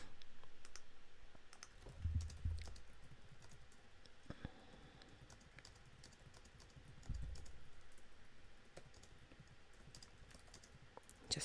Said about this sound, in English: Just typing in Discord.